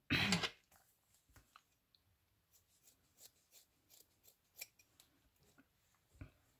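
Scissors trimming yarn to shape a pompom: one loud close rustle of handling, then a quiet run of small snipping cuts at irregular intervals, faint and near.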